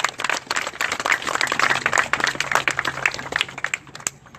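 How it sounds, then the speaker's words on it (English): A crowd of visitors at Castillo de San Marcos National Monument applauds the costumed volunteers before a historic cannon-firing drill, a dense patter of many hands clapping steadily for several seconds before tapering off. "please join me and give them a round of applause"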